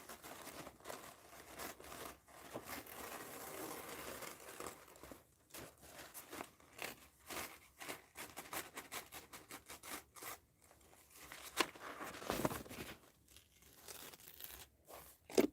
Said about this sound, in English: cut my napkin off here